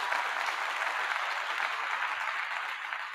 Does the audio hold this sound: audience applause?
yes